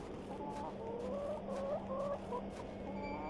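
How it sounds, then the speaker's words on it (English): Chickens clucking near a chicken house in the point-and-click adventure game The Excavation of Hob's Barrow, with several short, repeated clucks over a steady background hum. "Here's the chicken house."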